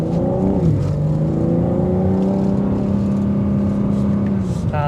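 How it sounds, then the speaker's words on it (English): A 2025 BMW M4 Competition xDrive in sport mode pulls hard, its exhaust note a loud, steady engine drone climbing in pitch under acceleration from inside the car. "put it back into sport everything so you can hear that exhaust note"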